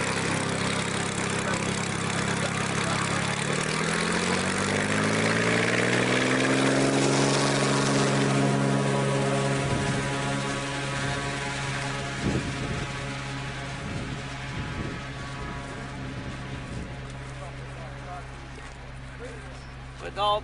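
A small propeller plane heads off to Harare, its droning engine rising in pitch and then holding a steady, loud hum over about twenty seconds while people talk nearby.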